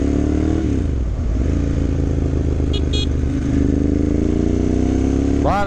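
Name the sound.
2009 Ducati Monster M1100 V-twin motorcycle engine running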